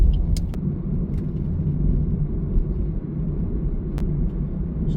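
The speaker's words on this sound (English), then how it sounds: "So I'm driving in Sydney." A car driving through Sydney city streets, heard from inside as a steady low engine and road rumble with a few faint clicks and rattles, no one speaking.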